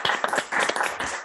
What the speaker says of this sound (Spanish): abriros los micrófonos y le damos un aplauso